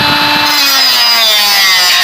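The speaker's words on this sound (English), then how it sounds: "So I had to get a cutting wheel because the grinder was not getting it." A grinder fitted with a cutting wheel slices through the steering rack of a 1993 Honda Prelude, giving a loud, steady, high-pitched whine with a grinding rasp that stays constant throughout, with no talk.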